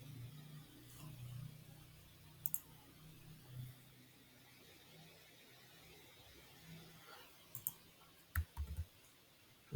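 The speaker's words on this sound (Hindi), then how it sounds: "Right click." A few sharp, faint computer mouse clicks, a right-click among them, isolated and sparse against a quiet hiss and low hum in a room.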